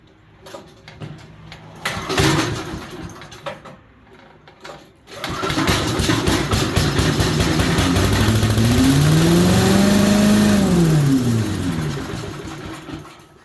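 A Briggs & Stratton small engine fitted with a 498298 carburetor is quiet at first, then catches and starts near halfway, running loudly and steadily with its pitch rising and falling before easing off.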